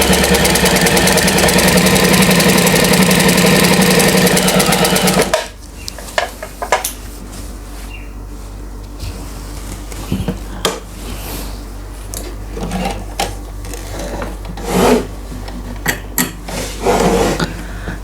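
A Janome NS 7322N sewing machine runs with a loud, steady motor whir for about five seconds. It then stops, and scattered clicks, knocks and handling clatter follow.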